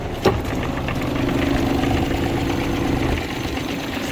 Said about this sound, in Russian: Двигатель работает четко, ровно, без каких-либо нареканий.